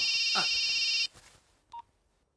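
A telephone rings in a scene from a Telugu action thriller film: a steady electronic tone holds for about a second, then cuts off, followed by one short, quieter beep.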